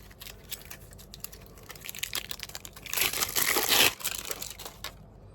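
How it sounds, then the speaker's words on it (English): Plastic wrapping pulled off a roadside hazard warning board crinkles and crunches in short bursts, with a louder, denser stretch of rustling midway before it tapers off, close up and without talk. "let's undo the plastic wrapping on this"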